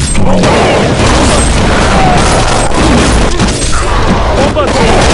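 Dense, loud booming explosions from bombs in the Counter-Strike 1.6 zombie escape mod, a continuous chaotic roar of blasts and gunfire with voices mixed in.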